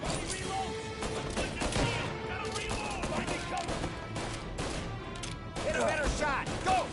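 Gunfire from Mafia: The Definitive Edition crackles in rapid, overlapping bursts through the whole stretch, dense and fairly close, with a voice talking over the shooting.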